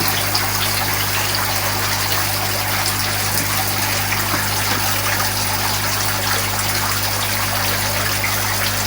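Viscous fish sperm poured directly onto eggs during artificial fish reproduction, a steady close gushing, trickling liquid sound over a constant low pump-like hum throughout.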